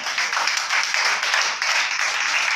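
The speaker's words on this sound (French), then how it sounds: "Amen avec les acclamations." A church congregation applauds: a dense, steady round of clapping that fills the whole moment, close and loud, with no one speaking over it.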